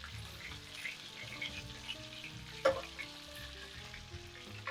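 Lamb chops fry in a pan with a faint, steady sizzle and light crackles close by, and one brief louder pop partway through.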